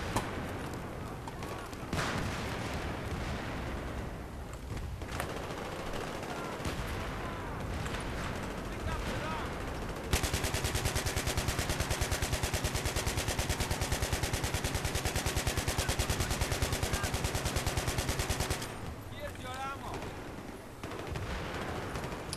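Rapid, sustained machine-gun fire in Battlefield 3 (Conquest, Metro map) rattles on continuously amid game explosions and other gunshots, with a long unbroken burst in the middle.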